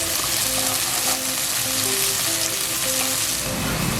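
Onions and garlic sautéing in a pan for pork menudo, a steady, dense sizzle and crackle of frying oil throughout, close and continuous with no talk.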